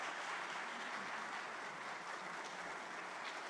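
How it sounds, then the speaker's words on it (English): An audience at the Nixon Library applauds Apollo astronaut Fred Haise after his talk, a steady, even wash of clapping heard from a distance at low level. "let's give him a round of applause"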